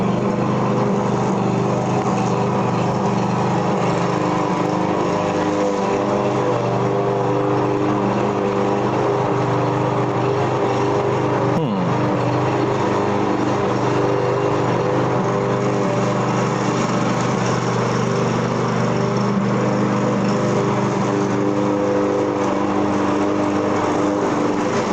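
A lawn mower engine drones steadily and continuously at moderate distance, its buzzing hum holding an even level for the whole stretch with no voices.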